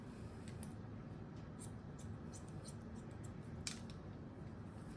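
Scissors snip hair during a blunt, one-length haircut, faint quick crisp clicks scattered through a quiet, hissy room.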